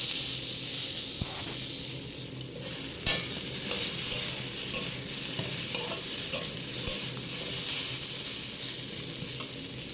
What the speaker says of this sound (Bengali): এখন আমি কড়াইয়ে তেল গরম করে তার মধ্যে পটল আলু দিয়ে দিয়েছি, দিয়ে ভাজা করে নিচ্ছি।